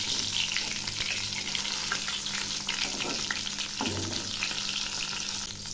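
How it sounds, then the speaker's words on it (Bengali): Eggplant slices fry in a pan with a continuous close sizzle and crackle of hot oil, broken now and then by light clinks and scrapes as the pieces are turned, with no talking. "বেগুন ভাজা প্রায় হয়ে আসছে।"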